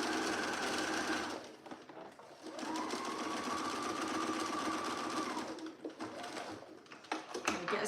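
A sewing machine stitches a jacket seam in two sustained runs of fast rhythmic whirring, close and loud, separated by a brief pause with a few shorter bursts afterward.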